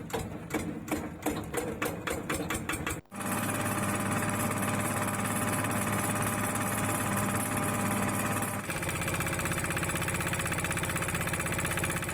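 A special-purpose machine processes selected pineapple leaves, over a year old, into fiber, running as a loud, steady mechanical drone with a rapid rhythmic clatter at the start, a brief drop near three seconds, then continuous whirring.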